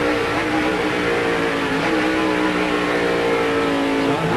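A race car engine at Watkins Glen during the 1997 race, heard loud and close as it drops gears into a corner, with a steady high drone and shifting pitch.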